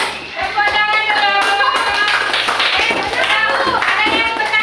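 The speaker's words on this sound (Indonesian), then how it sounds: "Tepuk tangan dulu." Children in a classroom clapping their hands together, a loud, fast and steady burst of many overlapping claps with some voices mixed in.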